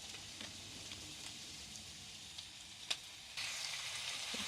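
Eggplant stir-frying with tomato miso in a pan, a quiet steady sizzle with a few light clicks of utensils, growing slightly louder near the end.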